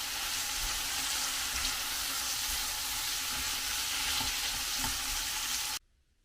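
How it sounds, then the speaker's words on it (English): Sliced ribeye and peppers sauté in butter with a steady, loud, close sizzle and a little stirring, continuing unbroken for several seconds before cutting off abruptly. "all of this is going to be sauteed in butter"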